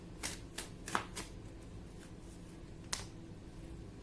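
Oracle cards are shuffled by hand in a quiet room: a few soft riffling bursts and light snaps, close by and low in volume, with a gap before one final flick.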